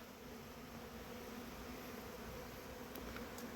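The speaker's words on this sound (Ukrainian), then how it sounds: "Пригріло сонечко і бачимо після проливу бжілка політає." Honey bees flying around apiary hives on a sunny autumn day after rain, a faint continuous buzzing swarm drone heard at a distance with no voices.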